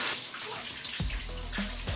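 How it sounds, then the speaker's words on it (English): Shower water pours steadily in a bathroom during a hair wash day, a continuous broadband hiss with a low rumble that thickens partway through, heard alone without talk. "I decided to keep the shower running so for you guys can hear that."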